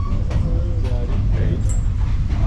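Steady low rumble and rattle of a passenger train riding through forested countryside in Kenya, continuous and close, with people talking over it.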